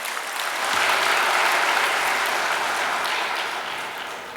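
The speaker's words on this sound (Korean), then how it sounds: "열심히 할 수 있도록 격려의 박수 부탁드리겠습니다." Sustained applause from a church congregation during a Sunday worship service, a dense, even wash of many hands clapping that swells early and slowly fades over several seconds, with no voices on top.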